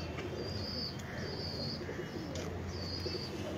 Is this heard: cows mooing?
no